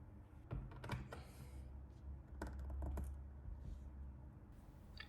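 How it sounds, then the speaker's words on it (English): A knife cuts through a leather strap beside a ruler, giving several short, close scraping and clicking strokes over a low background rumble. "Cut the strap to length, which is 295 mm, same as the pattern."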